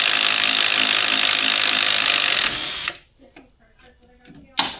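A wrench working a bolt on a dragging brake caliper of a 2012 Ford Escape, giving a loud, continuous whirring rattle for about two and a half seconds that stops abruptly, followed by quiet clicks and a sharp knock.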